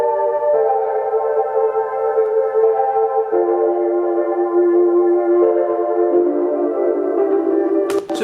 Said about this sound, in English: I'm going to be using the 40 pita pad.